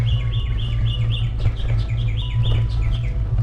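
Repeated high bird chirps ring out in quick bursts over a constant low rumble, loud and fairly close, during a bike tour in Taiwan.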